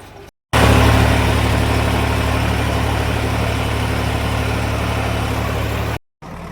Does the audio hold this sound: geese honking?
no